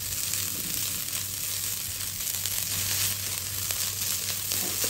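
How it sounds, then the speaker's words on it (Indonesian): Rice stir-fried in a pan for anchovy nasi goreng with white pepper gives a steady close sizzle and frying hiss, broken by scraping and stirring, with no voices. "seterusnya kasih masak ini nasi sampai berpisah-pisah,"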